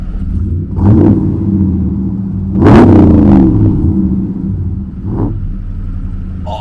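Dodge Ram pickup engine with a loud aftermarket exhaust, heard close as a deep idle rumble broken by three sharp revs, the middle one the strongest.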